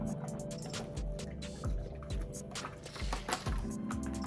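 Liquid mixture for an elephant toothpaste reaction with 12% peroxide being poured through a funnel, heard as faint repeated glugging and dripping pulses about every half second, quiet and close.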